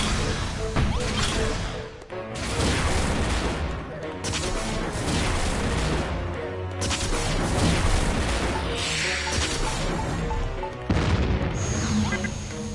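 Boss fight in the game Dragon Quest Builders: dense, continuous booms, crashes and rapid shooting bursts from the game fill the whole stretch, loud and cluttered, with brief drop-outs between volleys.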